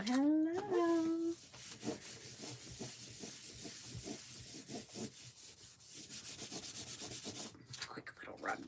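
Rubbing down a gel print on a canvas board, a steady scratchy friction of repeated hand strokes running close and fairly loud, with a brief voice at the start and a pause before the rubbing resumes.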